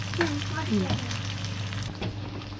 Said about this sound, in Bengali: আমাদের পেঁয়াজটা ভাজা হতে থাকুক, পেঁয়াজটা একটু একটু লাল হবে